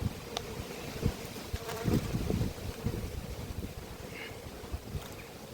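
Honey bees swarming over hive frames at an apiary during robbing pressure, a continuous close buzzing hum with occasional louder passes near the microphone, alone without talk.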